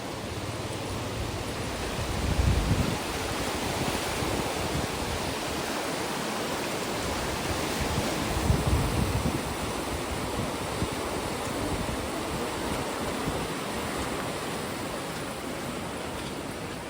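Floodwater in Balasore after heavy rain, a broad continuous rushing roar of moving water, steady and fairly loud, with a couple of brief louder surges.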